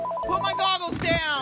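A telephone rings in the Accounting Plus video game, a bright repeating electronic tone partly buried under someone loudly shouting close by.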